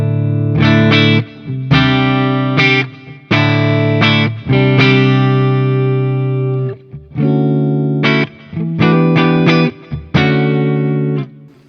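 Clean electric guitar through a Synergy Syn20 amp with added effects, sustained chords and short strummed phrases ringing out with shimmer and reverb tails, close and loud with no talking.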